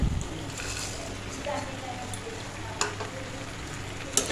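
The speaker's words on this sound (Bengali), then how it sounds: "এবার এর মধ্যে আমি বড়াগুলো দিয়ে দিব" Lentil fritters are stirred into a Bengali pumpkin-stem chorchori with mustard paste in a pan. A soft, low sizzle runs underneath a few sharp utensil clinks, and a voice speaks faintly nearby.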